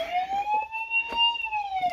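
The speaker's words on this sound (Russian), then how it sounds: "Это у меня сигнализация сработала." A security alarm goes off inside a garage cooperative with the power out, giving a loud warbling electronic siren that sweeps slowly up and down for the whole stretch, with faint clatter beneath.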